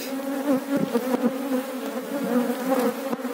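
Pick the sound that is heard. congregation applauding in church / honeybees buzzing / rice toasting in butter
honeybees buzzing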